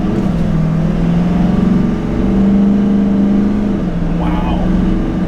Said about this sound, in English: Here's a quick wide open throttle now that the truck is warmed up.